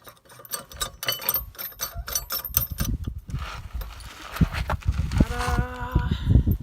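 A StowAway hitch tightener being bolted onto a trailer hitch, with close metallic clicks, ratcheting taps and clanks of a wrench and bolt in quick irregular bursts, fairly quiet.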